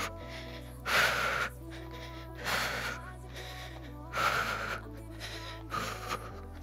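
Hard, gasping breaths during an at-home cardio workout, four strong exhales spaced roughly a second and a half apart, close and clear over quiet background music.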